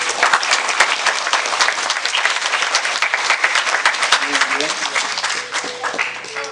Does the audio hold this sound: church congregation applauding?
yes